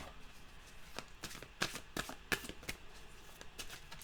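Tarot cards shuffled and cut by hand, a quiet series of crisp riffling flicks and slaps close by, without talk.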